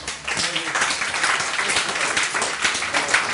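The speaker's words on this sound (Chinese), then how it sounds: "请热烈掌声" An audience at a Taipei meetup of two-minute self-introductions gives a speaker a round of applause. Loud, close, continuous clapping from many hands fills the whole stretch without a break.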